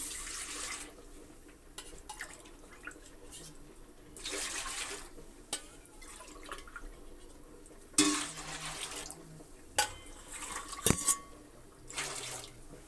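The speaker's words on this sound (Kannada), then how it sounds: "ಎರಡು ಲೋಟ ನೀರ ಹಾಕಿಬಿಡಿ" Water is poured into a pot while making khara pongal, coming in several separate gushes and splashes with quieter pauses between them.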